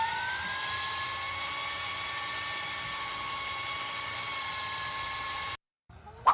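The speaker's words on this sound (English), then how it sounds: "If you do find yourself on a 72-volt Sur-Ron and you're not ready to wheelie it, do a burnout." A 72-volt Sur-Ron electric dirt bike doing a burnout gives a loud, steady high-pitched motor whine held for about five seconds, then it cuts off abruptly, leaving a brief scrape of noise.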